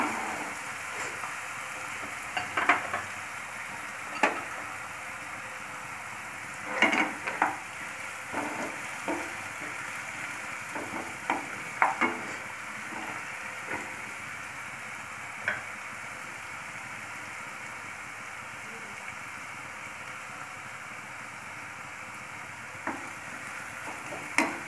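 Steady sizzle of onions frying with cumin in a pan, with occasional stirring clicks and scrapes, close up and continuous.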